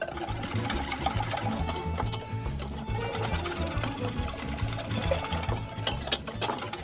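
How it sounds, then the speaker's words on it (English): Plant-based lasagna sauce is whisked hard in a pot before heating, a fast, steady rhythmic clatter and swish of the whisk that continues for several seconds at close range with no speech. "You want to whisk this up really, really good."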